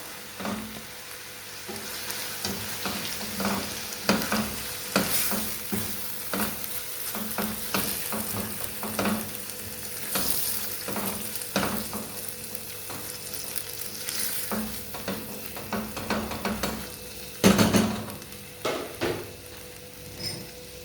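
Sweet red and green peppers fry in a simmering sauce in a pan, giving a steady sizzle broken by repeated knocks and scrapes of stirring, with a sharper clatter near the end; no voices.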